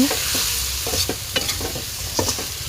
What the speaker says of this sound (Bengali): ডালটা দিয়ে একটু নাড়াচাড়া দিয়ে দিচ্ছি